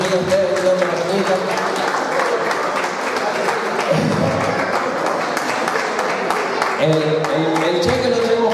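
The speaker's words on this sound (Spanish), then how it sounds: "Un aplauso para Narciso" Audience applause fills a wine award ceremony at a village festival prize-giving, a steady dense clapping throughout with voices talking over it, including a brief swell near the end.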